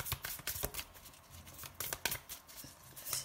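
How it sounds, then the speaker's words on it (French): Playing cards are shuffled by hand close by, a quiet run of soft riffling flutters and pats repeating over a few seconds. "Je vais battre les cartes à côté"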